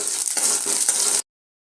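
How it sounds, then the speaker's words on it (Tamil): Cinnamon, cloves, fennel and cardamom fry in hot oil for a mutton kuzhambu, giving a loud, close, continuous sizzle with faint stirring clinks that cuts off abruptly after about a second. "எண்ணெய் ஊற்றிக்கலாம். பட்டை, கிராம்பு, சோம்பு, ஏலக்காய் எல்லாம் அதை போட்டு"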